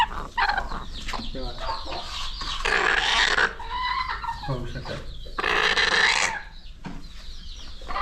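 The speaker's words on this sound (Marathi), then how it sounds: "पाहू शकाल ह्या कोंबड्या बघा तुम्ही अंड्यावर बसवलेल्या" Native country hens sitting on eggs cluck and murmur in a farm shed, their calls rising in short bursts at close range while a person talks alongside.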